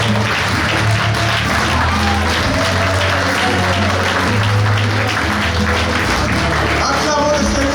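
A church congregation claps and cheers continuously in praise of the Lord, a loud, dense wall of applause lasting throughout with voices mixed in under it.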